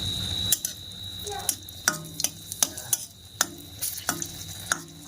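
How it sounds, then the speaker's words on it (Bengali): Dried red chillies fry in a pan with a steady low sizzle, broken by a series of sharp metallic clinks and scrapes from stirring at irregular intervals. "তো শুকনো লঙ্কা দুটো ভাজবো"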